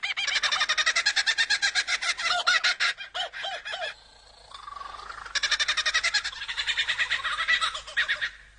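An Australian lyrebird in the forest mimics the calls of other species, pouring out rapid loud trills and repeated chattering phrases, with a brief pause and changing call types between bursts.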